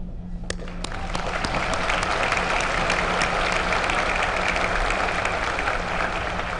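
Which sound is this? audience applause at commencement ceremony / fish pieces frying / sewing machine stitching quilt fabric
audience applause at commencement ceremony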